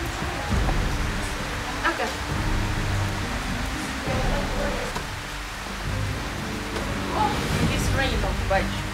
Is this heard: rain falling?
yes